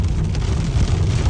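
Rain falling during a drive back from Dwarka, a dense, close, steady patter with a heavy low rumble underneath, brief and loud.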